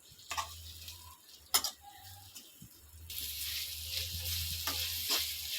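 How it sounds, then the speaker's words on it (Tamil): Onions fry in oil for a prawn fry, starting with a low hum and a few sharp clinks before a brighter, steady sizzle takes over and grows louder toward the end. "வெங்காயம் நல்லா பொன்னிறமாக வதங்கட்டேன்"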